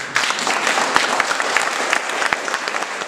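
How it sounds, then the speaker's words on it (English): An audience claps in a sustained round of applause at a thank-you presentation, many hands patting densely and steadily with a few sharper individual claps standing out, fairly close. "round of applause please"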